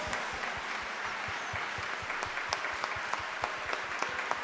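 A church congregation at Sunday Mass claps together in a steady, rhythmic applause, many hands beating in time with sharp repeated strikes, loud and continuous.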